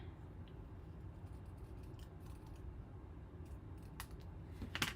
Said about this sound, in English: So let me just cut this out.